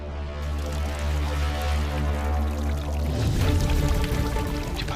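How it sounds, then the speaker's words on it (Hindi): Water spilling from an overflowing bathtub makes a steady gushing, pouring rush over a low hum, continuous and fairly loud, swelling slightly toward the end. "सिर्फ पानी तो बह रहा है"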